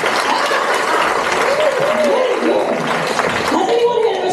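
An audience at a scratch-night comedy show claps hands together in a sustained, dense burst, with a few whoops and voices rising over the steady applause.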